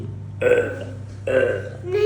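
A child belches twice, loud and close, with a short gap between them and a brief start of a third at the end, while a low steady hum runs underneath.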